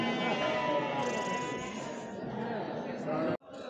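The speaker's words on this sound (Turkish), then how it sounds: "Bunlar da kısır koyun arkadaşlar." Sheep bleat nearby in drawn-out cries, mixed with people talking in a busy outdoor crowd at a livestock market in Göksun, Kahramanmaraş, Turkey, ending in a sudden cut.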